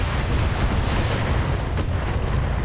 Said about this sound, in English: Only two more rounds of Gauss left.